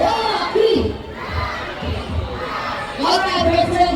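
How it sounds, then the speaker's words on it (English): Audience at an Ocean Park bird and sea lion show cheering for a sea lion named Rocky, a loud crowd of children and adults shouting and chanting in bursts, with a voice leading over them. "Let's cheer for Rocky"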